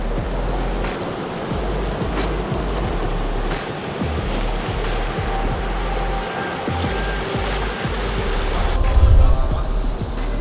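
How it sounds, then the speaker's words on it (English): A stream running over rocks on a forest trail near waterfalls, a steady broadband rush of flowing water throughout, with a slight swell near the end and no talk. "look at this beautiful stream, how it runs through the rocks"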